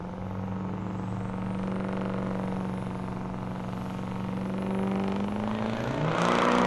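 Diesel pickup trucks idling and creeping forward while staging for a drag race at Tulsa Raceway Park, a steady low rumbling drone that builds louder toward the end.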